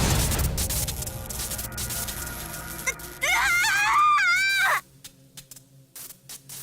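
A girl's shriek in a fantasy audio drama, heard as a loud, wavering, high-pitched cry lasting about a second and a half before it cuts off, preceded by noisy background.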